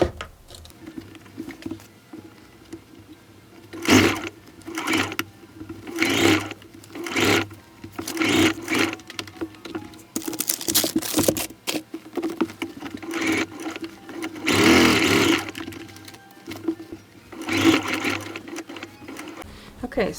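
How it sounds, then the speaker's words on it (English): Household sewing machine stitching fabric pieces for a memory bear, running in short bursts of rapid mechanical whirring with pauses between, close by, with a person talking over parts of it. "when I sew these pieces together"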